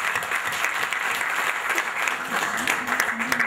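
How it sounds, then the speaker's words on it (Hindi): Applause from the audience at a Hindi book launch, a dense, steady patter of many hands clapping that runs through the whole moment with no voice over it. "राजेंद्र जी के लिए एक बार जोरदार तालियां।"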